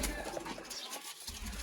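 Sialkoti pigeons of the Master Abdullah line cooing softly at a loft, a low murmuring coo repeated with a brief pause midway, faint and close amid light background noise.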